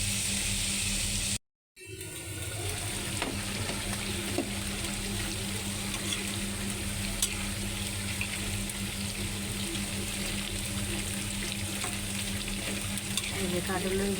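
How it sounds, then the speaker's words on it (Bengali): Loud continuous sizzle of jackfruit seeds stir-frying in a pan, close up, with scraping from stirring and a brief cut of silence near the start. "এই যে কাঁঠালের বিচি কষাইতে হবে ভালো করে কষাইয়া, তারপরে লতি দিয়ে দেবো।"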